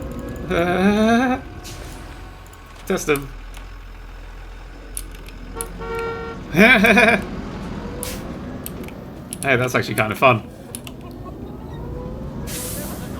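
Buses honking and hissing their air brakes in the city-building game CyberPark, heard as several separate loud horn blasts spaced across the stretch with a faint traffic rumble between them, while a person talks briefly.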